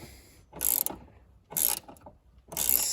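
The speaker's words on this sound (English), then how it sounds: "I'm just going to tighten this up with the spanner, the 14mm spanner, and that 5mm Allen key, just to get that lock nut started" A 14mm spanner tightens the lock nut on a Honda Civic shock absorber while an Allen key holds the shaft, giving three close, loud bursts of metallic ratcheting and scraping separated by short pauses.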